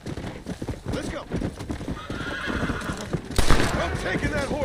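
Horse neighing and hooves clopping in Red Dead Redemption, a busy mix of whinnies and hoofbeats with a louder burst near the end, heard alongside talk and other game sounds.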